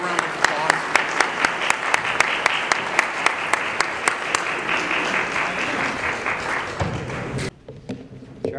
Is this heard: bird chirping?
no